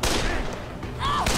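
Gunfire in the zombie video game Dead Island, a loud burst of rapid shots layered over game noise, filling the short moment with dense, close blasts.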